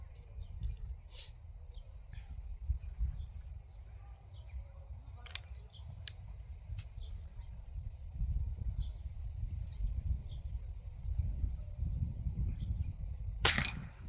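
Faint sharp pings and clicks ring out against a quiet outdoor background, with a louder metallic crack near the end, as SMK 501 air rifle pellets strike metal silhouette targets.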